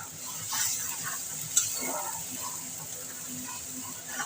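A paste of onion, dried chilli and green chillies frying in a pan for egg omelette curry gives a steady bright hiss, with soft stirring scrapes and a brief clink of a utensil, close and even, with no talking.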